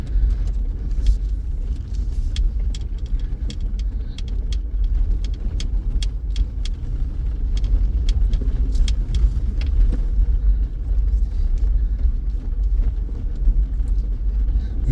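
Car cabin while driving, with everything shaking and strange noises: steady low road rumble throughout, overlaid by irregular sharp rattles and clicks from the interior, fairly close, with no talking.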